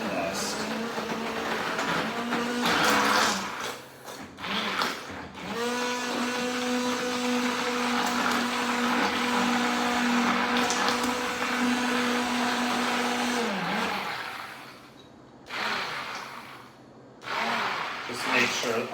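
Blender whirring as it blends peanut butter and honey, a steady loud motor drone of about eight seconds with short pulses before it and brief bursts after.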